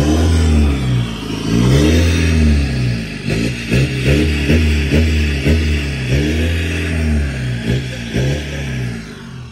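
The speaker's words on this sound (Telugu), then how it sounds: "ఇది డీజిల్ ఇంజన్ కదా అందుకే సౌండ్ కొంచెం తక్కువ వస్తుంది" A tuned Stage-2 VW Polo diesel engine revs hard again and again, sharp repeated throttle blips climbing and falling close up, loud and alone with no talk.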